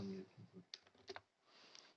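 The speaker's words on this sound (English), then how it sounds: "just simply input the plus sign from your keyboard." A few soft computer-keyboard key presses click faintly and close by, scattered taps following a moment of quiet speech, while a plus sign is entered during chemical structure drawing software work.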